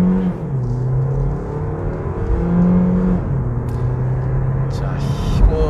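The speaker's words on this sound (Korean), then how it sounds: "자, 제로백 테스트 하겠습니다." Hyundai Kona Hybrid with a 1.6 GDI engine and permanent-magnet motor, 141 hp total, accelerating hard in a 0-100 km/h run, heard from inside as a steady engine drone whose pitch climbs and resets through gear changes.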